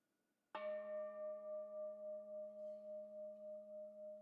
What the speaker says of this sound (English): as we ring our gong and let the sound connect us